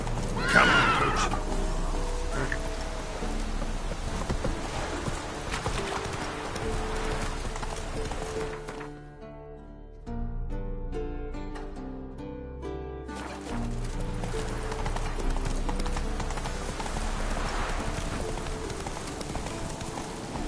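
Roach, the horse in The Witcher 3 on PS4, gallops with steady rhythmic hoofbeats and snorts under game music and ambience, close and fairly loud, with a brief quieter stretch midway.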